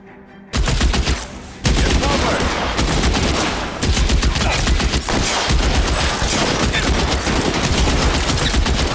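Loud, dense gunfire rattles in rapid sustained bursts in LA Noire, nearly continuous after a short quiet opening, with a brief lull partway through.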